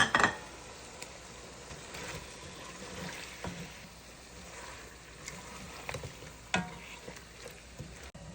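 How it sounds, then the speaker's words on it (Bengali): A rohu fish head fries in a pan of cooked spices, a steady broad sizzle with occasional stirring knocks and a louder clatter at the start. "মশলা হয়ে গেছে, মাথা দিয়ে দিই।"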